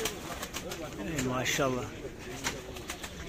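Pigeons coo nearby amid a busy outdoor bird market bustle at Edirnekapı, while someone speaks briefly over the birds.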